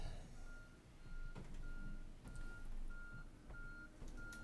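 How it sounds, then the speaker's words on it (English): A truck's backup alarm sounds a regular series of about seven evenly spaced beeps over a low engine rumble, faint and distant, with a few sharp knocks in between. "somebody just brought up a good point about a backup alarm"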